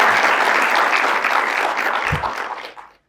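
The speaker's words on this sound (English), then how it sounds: "Please give a very warm round of applause for Rohit." A business-talk audience gives a warm round of applause to welcome a speaker onstage, dense crowd clapping that holds steady and then fades out toward the end.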